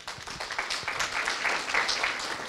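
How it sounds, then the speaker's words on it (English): A church congregation at an Easter service claps for a first-time visitor, a soft, distant patter of many hands that stays low and even throughout. "Let's clap for her."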